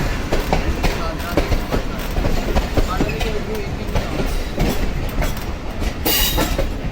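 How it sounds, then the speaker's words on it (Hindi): The Narowal passenger train pulls out of a station with a steady loud rumble and rhythmic clickety-clack of wagons, with brief wheel squeals and someone speaking over the noise. "हमारे पहुंचते ही जो नारोवाल पैसेंजर है वो जा रही है"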